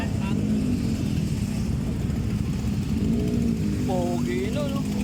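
Motorcycles, including big bikes, roll past on a road, a steady loud engine drone with rising and falling tones as they go by, voices audible now and then.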